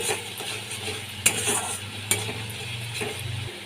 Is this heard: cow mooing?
no